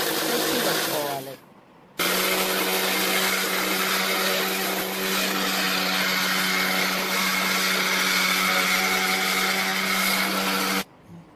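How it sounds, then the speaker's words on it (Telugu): A kitchen mixer grinder whirs loud and steady, grinding a curry leaf spice mix, starting after a brief pause and running for about nine seconds before cutting off abruptly. "ఈ వేసిని అన్నీ మిక్సీ గిన్నె వేసుకొని మెత్తగా అయ్యే వరకు మిక్సీ పెట్టుకోవాలి."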